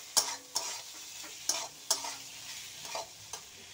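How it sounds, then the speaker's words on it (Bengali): Cauliflower and potato pieces being stirred in a hot pan, a series of separate scraping strokes with soft sizzling in the pauses between them. "এবার কিন্তু ফুলকপি আর আলুটা দিয়ে দেব, দিয়ে ভালো করে কিন্তু নেড়ে নেব।"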